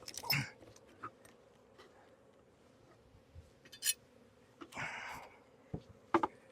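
Low buzzing of bees on a beehive with scattered louder bursts and rustling as quilt boxes are removed, fairly close, no talking.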